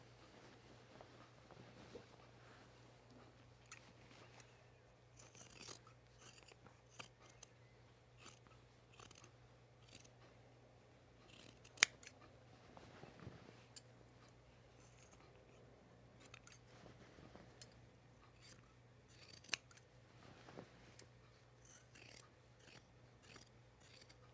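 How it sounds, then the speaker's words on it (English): Scissors snip through the loose, thready fabric of a pajama top's seam allowance in a quiet room, with scattered short faint cuts and a steady low hum underneath. "It's just a little thready, so that's why I'm trimming it."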